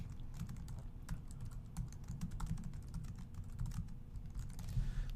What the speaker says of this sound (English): type it in, just hit search